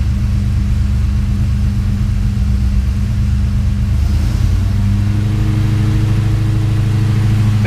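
A Ford Fairmont XC GXL engine idles with a loud, steady rumble, then its revs rise partway through and hold at a higher, busier drone, close up with no talk.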